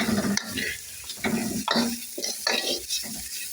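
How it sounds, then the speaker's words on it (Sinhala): Egg kottu roti pieces being stirred and tossed in a hot pan, with repeated scraping strokes over a steady sizzle of frying, close and fairly loud, no talking. "දැන් අපි හොඳට කවලම් කරගමු."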